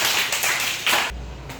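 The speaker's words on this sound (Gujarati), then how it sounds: "સરસ તાળી પાડો તેને।" Children in a classroom clap together in a brief burst of dense, overlapping applause that fades out within about a second and a half.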